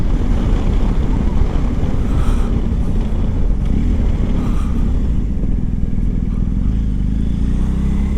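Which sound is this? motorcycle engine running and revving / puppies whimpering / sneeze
motorcycle engine running and revving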